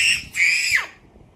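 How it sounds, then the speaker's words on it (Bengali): A child lets out a shrill, high-pitched scream in two close bursts, the second sliding downward before fading to quiet. "তুমি আজকে শুধু চিৎকারই করবে"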